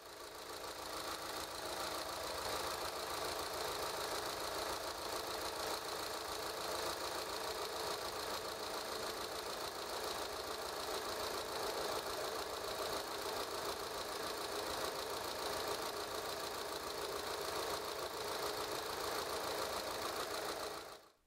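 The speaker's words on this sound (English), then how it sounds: "Next, start the engine. Let it run for a few minutes so it can circulate the oil." Volkswagen Jetta TDI 2.0L diesel engine idles after an oil change, a steady, even clattering hum that runs unchanged for about twenty seconds before cutting off abruptly.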